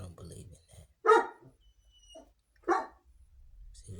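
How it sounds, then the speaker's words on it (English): A dog barks twice, loud and close, with a pause between the barks, over low background rumble and faint voices. "See, the dog know he pissed off too."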